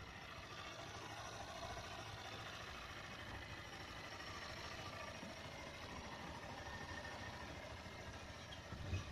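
A white 2018 Honda Fan motorcycle engine idles steadily throughout, a constant low mechanical hum with a slight rise near the end and no talking.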